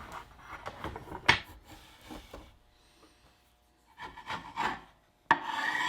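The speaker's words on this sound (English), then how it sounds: "I let the glue skim over and I'll try to remove the bulk of it with a chisel" A chisel scrapes skimmed-over dried glue off white oak in short, close, scratchy strokes, uneven and intermittent, with quiet pauses between and a sharper scrape near the end.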